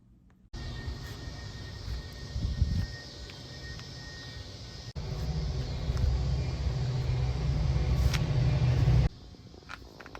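A newly delivered car driving along, its steady road rumble and tyre noise rising in two sustained stretches with a brief break between, close and continuous with no talking.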